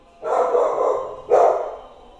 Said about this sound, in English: Lucy will just bark randomly